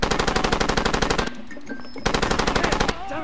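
Far Cry 2 gunfire: rapid automatic bursts with steady, evenly spaced shots, a short pause, then another burst, all loud and close.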